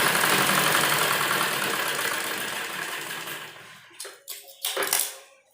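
A sewing machine stitches the edge of a blouse with a loud, continuous motor whir that slowly fades. It then stops and is followed by a few short, sharp bursts of stitching.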